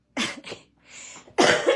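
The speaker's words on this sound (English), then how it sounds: "I still got that nasty cough every once in a while" Two rough coughs close by, separated by a breathy pause, the second burst louder and longer than the first.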